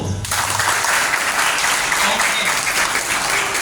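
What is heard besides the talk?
applause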